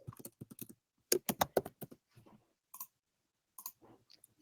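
Clicky bursts of typing on a computer keyboard, uneven clusters of keystrokes with short pauses between them, close and fairly crisp, no voices.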